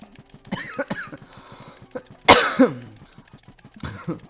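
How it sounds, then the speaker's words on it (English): A man coughs in a sharp, loud burst partway through, with smaller throat sounds and bits of background noise around it, over quiet game-like sounds. "Man, that cough is real."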